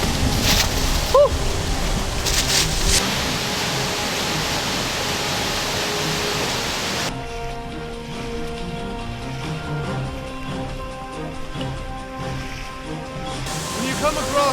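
Waterfall in the wild giving a loud, steady broadband roar of rushing water close to the microphone, with someone talking over it for much of the time.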